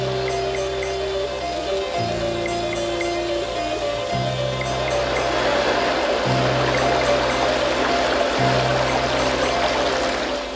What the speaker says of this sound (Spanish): ¡La tromba de agua va hacia la pradera!